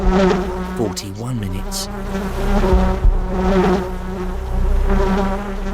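Bees buzz close by at the end of a bee race, loud droning wingbeats rising and falling in pitch, with brief talk mixed in.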